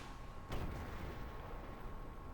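One sharp artillery boom in the Armored Warfare tank game, landing over a steady background rumble and fading quickly, with no voices.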